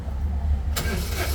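A car engine with blow-by being cranked in a failed attempt to start, a low rumble that jumps into a louder, rougher whirring burst partway through, heard close with no talk.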